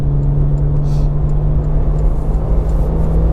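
Porsche GT3 RS engine on the Nürburgring, a steady loud droning hum with a strong low tone held throughout, continuous and close without clear rises in pitch.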